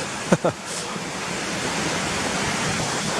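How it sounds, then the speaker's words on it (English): Steady rushing stream water fills the scene with a broad, constant wash beside a path and wall, after a couple of brief voice-like bursts at the start. "the stream comes around the back next to the wall and joins the path here"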